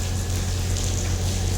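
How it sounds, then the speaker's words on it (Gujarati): Steady rain pours down during a Navratri evening, a dense continuous hiss over a low constant hum, even and unbroken throughout, with no voices. "અત્યારે વરસાદ આવ્યો"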